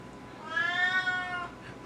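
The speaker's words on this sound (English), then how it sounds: "My cat" A pet cat meows once, drawn out and clear, close by in a quiet kitchen where a rotisserie chicken is resting.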